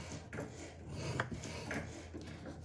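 Paper for a faceted favour box scored along measured lines with a tool, giving soft rubbing, scraping strokes, close and quiet, with no talking.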